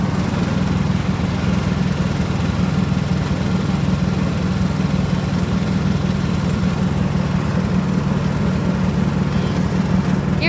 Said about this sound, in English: I'm on a lawnmower right now